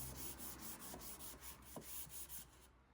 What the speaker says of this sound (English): I'm just going to hand sand